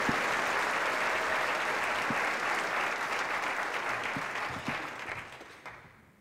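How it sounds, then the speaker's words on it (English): Audience applause at an Oro Valley Chamber of Commerce annual meeting: dense, steady clapping from a crowd filling the room, holding strong for several seconds before thinning and fading out at the end. "Kristen, her staff, and the entire board, I believe, deserve a big round of applause."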